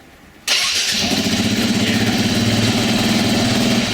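A KTM EXC dirt bike engine fires up on its electric starter after a brief quiet moment, then settles into a steady, loud, close idle with a regular chugging pulse.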